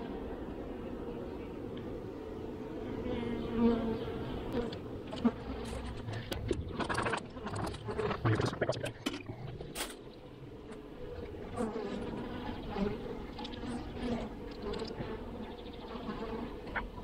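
Honeybees buzz steadily throughout an inspection of a hive's boxes after five months, a dense droning swarm close by with brief louder bursts and handling noises, faint talk underneath.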